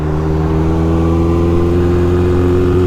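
A 1981 Honda CB900F inline-four motorcycle engine hums steadily while riding, a loud close drone with a held pitch and a brief pitch shift near the end, no talking.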